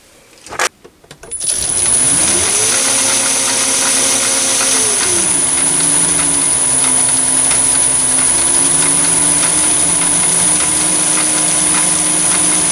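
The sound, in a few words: mini lathe parting off aluminium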